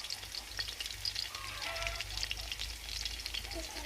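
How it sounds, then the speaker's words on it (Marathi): Crushed garlic and cumin seeds sizzle steadily in hot oil in a kadhai, a dense, continuous crackling hiss held at an even level with small pops throughout. "ठेचलेला लसूण घालायचा आहे"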